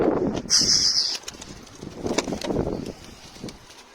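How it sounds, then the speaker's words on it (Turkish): A pigeon flaps its wings as it flies close overhead, a brief burst of fluttering early on, followed by rustling outdoor noise and faint voices. "Ha, kuş geldi. Üstümüzden geçti döndü."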